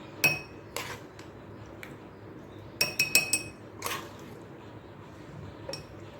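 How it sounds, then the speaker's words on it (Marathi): Tamarind mixture scooped into a container, with several sharp clinks of a spoon against the vessel, a cluster of quick taps in the middle, and a soft wet squish between them. "आपण एक कंटेनर घेतलं आणि त्याच्यामध्ये आपल्याला हे टाकायचं आहे"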